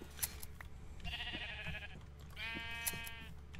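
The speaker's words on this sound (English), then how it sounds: "Start shearing these sheep." Minecraft sheep bleating during shearing in the video game, two distinct synthetic bleats about a second apart, each with a short wavering tone, over a low steady background hum.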